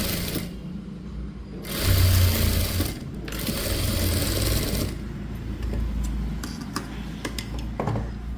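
A sewing machine stitches a blouse in loud, steady runs of rapid mechanical whirring, with short pauses between runs and lighter clicking and handling at the end.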